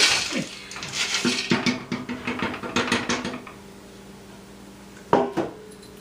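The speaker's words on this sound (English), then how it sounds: "we're going to dump all these vegetables and things that are good for you in here" Vegetables for a corned beef stew tumble into a pot, making a cluster of close clattering and thumping knocks over several seconds. After a quiet stretch comes one last sharp clunk.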